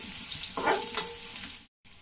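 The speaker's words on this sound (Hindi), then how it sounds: "अब हम डालेंगे इसमें प्याज, प्याज को भी हमें हल्के से सेकना है।" Onions hitting hot oil in a pan for karmatta bhaji, a burst of sizzling and stirring that swells briefly, then cuts to silence before a low fry resumes.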